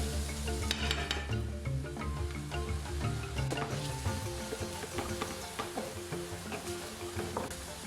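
Onions frying in oil in a hot pan, a steady crackling sizzle with occasional stirring scrapes and clinks of the utensil against the pan, close and continuous, with no talking.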